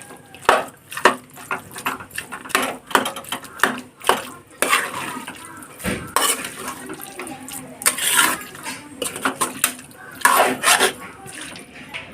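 Mixed root vegetables being stirred together with onion and tomato in a pan for a Pongal kadamba poriyal, with repeated scraping and clattering of a spoon against the pan and a soft wet, moist texture underneath.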